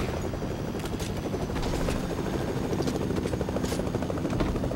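Helicopter in the video game Fortnite, a loud continuous rotor thrum with rapid chopping pulses, steady and close throughout.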